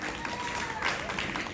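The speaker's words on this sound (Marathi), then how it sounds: "प्राजक्ता वहिनीसाठी जरा टाळ्या वाजवा" Audience applause for a woman at a Home Minister Khel Paithanicha game-show event in Bhosari: a short, steady burst of clapping with voices mixed in.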